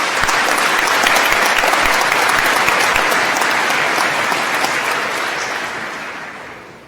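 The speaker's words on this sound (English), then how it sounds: "Let's give them all one more round of applause." A large commencement audience applauds graduating medallion recipients, a dense, sustained roar of clapping that holds steady and then slowly fades toward the end.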